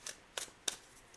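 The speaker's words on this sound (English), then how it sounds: "I'm just going to shuffle each of these decks a little bit more until I feel it's right." Decks of oracle cards are shuffled by hand in three quiet, crisp riffling bursts spaced evenly apart, close up, with no voices.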